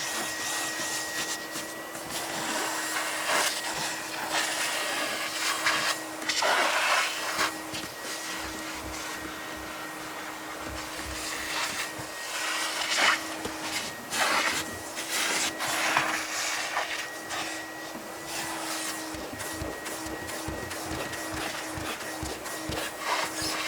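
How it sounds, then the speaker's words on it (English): A vacuum cleaner runs steadily while picking up debris from a car's carpet and floor mat during detailing, with a continuous whine and scraping, rubbing bursts as the nozzle works across the surface. "I'm going to use my vacuum here and pick up the materials, the debris on here."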